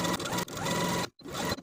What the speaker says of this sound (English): Take it to your sewing machine and edge stitch those folded edges together from one end of your tie all the way to the other.